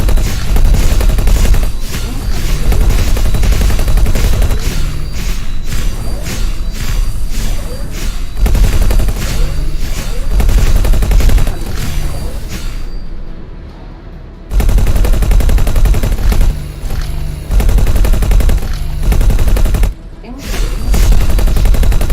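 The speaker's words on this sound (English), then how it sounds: "least it's only shooting dumbfire missiles, because that's a lot of missiles they're shooting at me." Dense, loud space-combat barrage in X4: Foundations: rapid gunfire and a stream of dumbfire missiles rattle almost nonstop, with a couple of brief near-silent gaps partway through.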